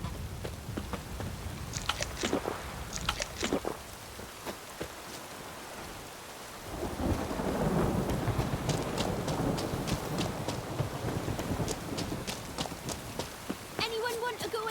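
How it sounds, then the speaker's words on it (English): Rain and storm ambience in The Witcher 3 on Xbox Series X, a steady rushing wash of rain with intermittent crackles and sharp bursts, swelling louder midway, while a voice talks over it. "storm, damn it."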